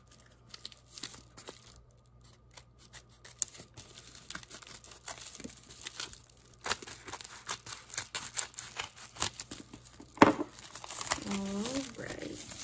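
Plastic and paper wrapping on a prize package crinkle, crumple and tear in close, irregular bursts, with a sharper rip near the end; quiet background hum throughout and no talking.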